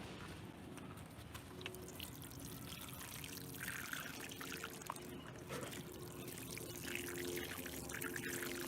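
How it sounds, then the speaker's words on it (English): Water pours from a can onto freshly planted herbs in Dollar Tree planters, a steady close trickle and splash running unbroken for several seconds with no talking. "So let me water these in."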